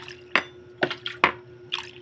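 Water dripping and splashing off fish as it drains, a few separate close drops and splashes spread over a couple of seconds above a steady low hum.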